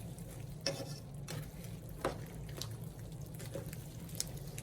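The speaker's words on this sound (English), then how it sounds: "And then we'll just let it simmer off for about another 5 minutes after that" Chicharrones bubble and simmer in a pot with a steady low sizzle, punctuated by a few soft scrapes and clacks of a utensil stirring them, quiet and continuous with no speech.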